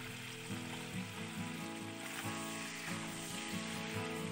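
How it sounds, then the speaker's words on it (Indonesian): Steady sizzling of squid frying in hot oil fills the scene, with a faint low hum running underneath throughout. "Supaya tidak alot, kita goreng cuminya sebentar saja."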